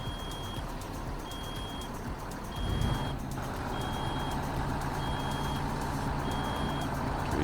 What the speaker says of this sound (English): You get the standard in-game low air brake noise.